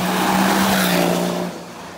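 A 440bhp hybrid-turbo BMW 535d diesel accelerating hard, a loud, close engine roar with a steady droning tone that drops away after about a second and a half, with no voices.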